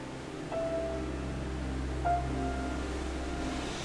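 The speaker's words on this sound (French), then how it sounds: "Le bruit de la rivière encore dans les oreilles" Steady rushing water of a Scottish river flows continuously, with two brief, thin chirps rising above it.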